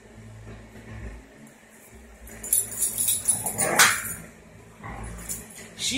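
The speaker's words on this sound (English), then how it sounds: "she starts growling and he backs off" Puppies at play growl, yip and whimper in a home, the sounds rising into a louder burst of yelping midway and then easing, fairly close, with a person speaking now and then over them.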